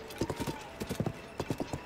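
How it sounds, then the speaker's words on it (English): Clydesdale horse hooves clip-clopping in a steady trotting rhythm in a Zelda video game, close and clear, with a brief whinny-like tone underneath. "At least we got a horse this time."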